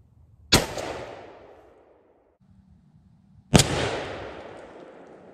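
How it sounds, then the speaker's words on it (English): Two loud, sharp shotgun blasts about three seconds apart from a Stevens 301 20 gauge firing Winchester Double X turkey loads at an outdoor range, each followed by a decaying boom and echo. "All right, this is the last shot. It's the Winchester double X at 40 yards."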